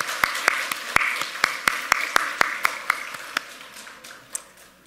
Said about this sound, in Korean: 다시 한번 큰 박수로 경배해 주겠습니다.